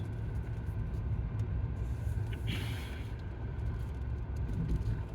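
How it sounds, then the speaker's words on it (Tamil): Mahindra Bolero SUV pulling in second gear, a steady low engine drone and road rumble heard from inside the cabin, continuous and moderately quiet with no talk. "ஃப்ரீ ஸ்ட்ரெச் செகண்ட் கியரில் இருக்குது. ஒரு 3000 ஆர்பிஎம் வரைக்கும் புல் பண்ணுது."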